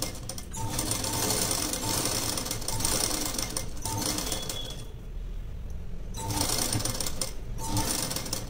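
Close sewing machine steadily stitching a V-neck blouse, a fast continuous mechanical whir and needle chatter with brief pauses between runs, fairly quiet and alone.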